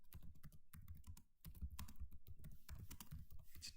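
Quick, uneven keystrokes on a computer keyboard come from HTML code being typed, close and clear, with a short pause just before the middle and otherwise continuous clicking.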